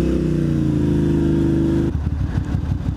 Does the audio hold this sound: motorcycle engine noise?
yes